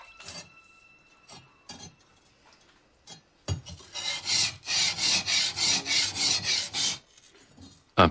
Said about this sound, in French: Un premier polissage permet de faire apparaître le hamon, la ligne de trempage de la lame.